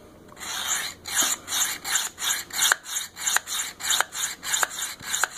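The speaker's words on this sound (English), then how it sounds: "this seems to be sharpening up really quick" A knife blade is drawn repeatedly across a Work Sharp Field Sharpener, giving about a dozen rhythmic, rasping scrapes in steady back-and-forth strokes, close and fairly loud, with no talking.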